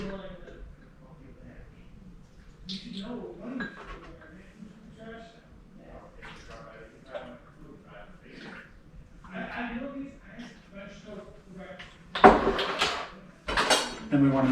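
A spoon or whisk clinks and scrapes against a bowl while cake batter with vanilla and hot water is mixed, with intermittent talking throughout and louder, busier clattering near the end.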